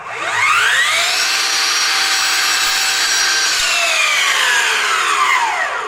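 A Bosch PROFACTOR 18V Surgeon 12-inch cordless miter saw cuts through wood, a steady, loud whining blade that holds through one continuous cut for several seconds, with the motor pitch dipping under load and rising again as it finishes.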